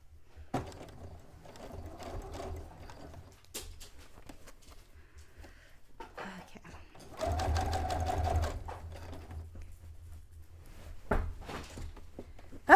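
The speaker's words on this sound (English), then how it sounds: "I'm sewing all the seam allowance to the lining inside of" Close sewing machine stitching seam allowance down to the lining of a cone-shaped cape or dress, in short bursts of rapid mechanical stitching separated by pauses, with a louder sustained run in the middle and small handling knocks.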